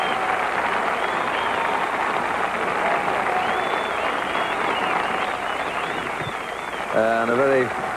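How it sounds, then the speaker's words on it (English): Sustained crowd applause from a golf gallery gives Jack Nicklaus a standing ovation at the 1987 US Open at the Olympic Club, a steady dense roar of clapping throughout with a brief higher tonal sound near the end. "a very satisfied Jack Nicklaus getting a wonderful round of applause, a standing ovation"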